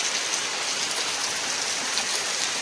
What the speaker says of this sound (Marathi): मस्त पाऊस चालू झाला आहे